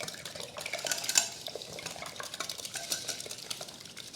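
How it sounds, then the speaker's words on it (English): Eight large eggs whisked in a bowl, a steady rapid clatter of whisk against the bowl at a soft, close level, continuing without talk. "Whisk the eggs."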